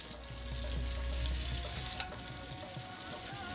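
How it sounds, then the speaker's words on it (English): Soya chaap fries in hot oil with a steady, even sizzle and faint bubbling crackle, heard up close with no voices. "after you fry this soya chap, there will be crumbs in the oil"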